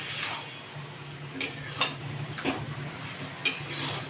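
A spoon stirs chicken with yogurt in a hot pan on a home stove, producing scattered metallic scrapes and clinks over a steady low sizzle, close and moderately loud, with no talk.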